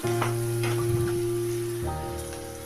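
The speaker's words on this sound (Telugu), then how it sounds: "ఒక స్పూన్ ఉప్పు, గోల్డ్ కలర్ వచ్చే వరకు బాగా వేపుకోవాలి ఉల్లిపాయలని" Sliced onions salted and frying in a pan for an aloo tomato curry, giving a steady, close sizzle with some stirring over a constant low tonal hum that shifts slightly near the end.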